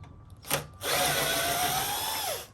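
A power drill unscrews screws from an Aiper Scuba S1 pool-cleaning robot: a brief tap, then a steady close whine that runs for about a second and a half and winds down at the end.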